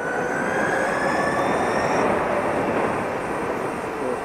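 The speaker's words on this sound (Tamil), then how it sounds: "ஸோ இப்போ நம்ம currently we are in sports mode. Will just go full throttle." An Ather 450 electric scooter accelerates at full throttle in sport mode, a thin rising motor whine sitting over loud, constant wind and road rush.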